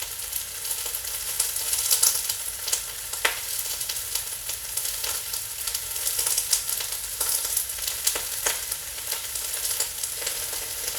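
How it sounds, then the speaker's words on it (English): Onions fry on a hibachi grill with a steady, close sizzle and scattered sharp crackles and pops throughout, with no voices. "hopefully you can hear what I'm saying over the cracking onions"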